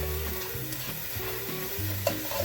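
Onions sautéing in a large pat of melted butter give a steady sizzle close by, with low stirring bumps and a few soft scrapes, no speech.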